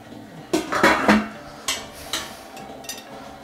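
A steamed dish lifted out of a steamer pot in a home kitchen: a series of sharp metallic clanks and clatters of pot, lid and plate, about six distinct knocks spread irregularly, close and moderately loud.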